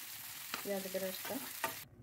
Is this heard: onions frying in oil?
yes